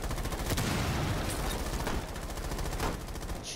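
Rapid automatic gunfire in Rainbow Six Siege, aimed at a camera, rattles as a loud, unbroken burst of close shots with no talking.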